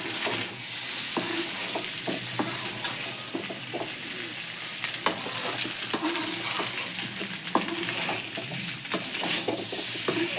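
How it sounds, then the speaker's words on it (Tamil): Egg pasta being stirred slowly from the bottom of a sizzling pan, with repeated scraping and clinking strokes of the utensil against the metal over constant frying crackle, close and alone with no talking. "ஸ்லோவாக மிக்ஸ் பண்ணுங்க, அடியில் இருந்து மிக்ஸ் பண்ணுங்கள்"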